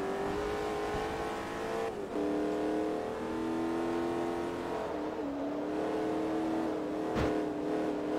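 Race car engine from Forza Motorsport 3 in an RWD hot hatch race, droning steadily at high revs with gear-change dips and a brief sharp knock near the end, no talk.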